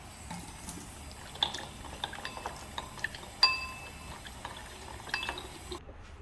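Ingredients are rinsed in a basin of water, with soft splashing and sloshing and a few light clinks against the container, quiet and close.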